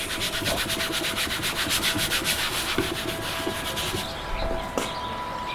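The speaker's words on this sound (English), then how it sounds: "Right here with the sponge. Rub it in." A sponge scrubs a product into the body of a Dodge Durango in a steady, continuous close-up rubbing, broadband and dense throughout with a brief scrape near the end.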